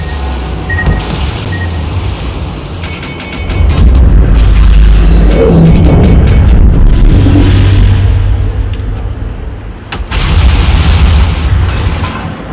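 Heavy booming impacts of torpedo hits on a Tier 9 German battleship in World of Warships, a loud sustained rumbling roar with layered explosions and crackling debris, swelling in the middle and flaring again near the end.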